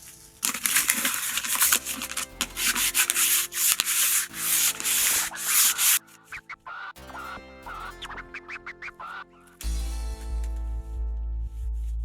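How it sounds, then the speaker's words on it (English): Sanding on a car wheel to break through its paint before stripping: steady scratchy rubbing strokes up close, a rough continuous stretch, then choppier passes and a final lower, heavier grind. "I'm just going to sand it to break through the surface."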